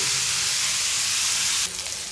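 Onion and grated coconut roasting together in a pan for a Malvani chicken masala, a steady, close, loud sizzle that softens slightly near the end, with no talking.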